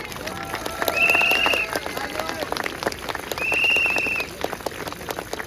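Crowd at a national march for peace and liberty applauding organisers and volunteers, a broad outdoor patter of clapping that swells and holds, with two brief high whistle tones cutting through.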